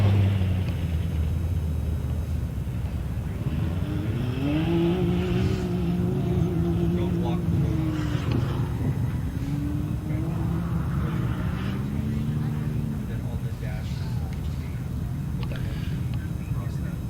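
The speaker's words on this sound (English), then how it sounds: "Torney, number 804, with Draco Motorsports, putting that Can-Am to work." A Can-Am off-road race vehicle runs in an Ultra4 race, its engine droning steadily with rising and falling revs throughout, while a commentator talks over it.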